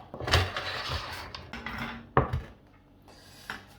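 A peach almond tart being set down on a plate: a few close knocks and clinks of ceramic and metal with soft scraping between them, and one sharp contact near the middle.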